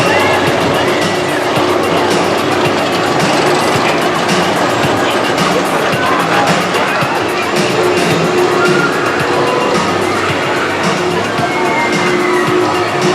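Breakdance spinning ride running at Kentucky Kingdom amusement park in Louisville, a steady loud mechanical roar and rumble with crowd noise, continuous throughout without clear pauses.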